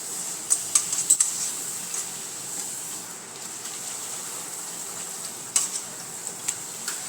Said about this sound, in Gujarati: આવી જ રીતના આપણે બધી જ પૂરીઓ તળી લેવાની છે